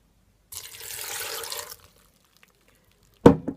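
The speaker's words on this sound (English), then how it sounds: "So in my blender, I'm gonna add half a glass of water." Water pours into a blender in a steady splashing stream for about a second, then stops, followed by a sharp clunk a moment later.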